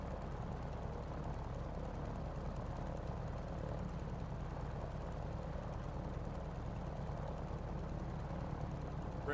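Wildcat fighter plane engine running in a flight sim, a steady droning propeller roar that holds constant and fairly loud throughout with no talk.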